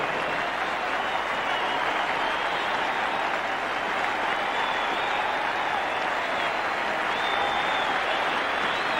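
A stadium crowd of about 18,000 at an Australia versus Pakistan cricket match in 1984 cheers and applauds a departing batsman, a loud, sustained roar of clapping and shouting that fills the whole stretch without a break.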